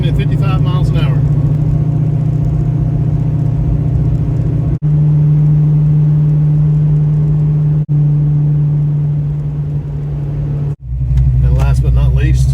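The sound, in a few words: Fox Body Mustang cruising at 55 mph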